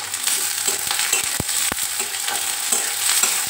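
Chopped onions fry in mustard oil with a bright, continuous sizzle, broken by several knocks and scrapes as a spoon stirs the pan, close and loud with no voices.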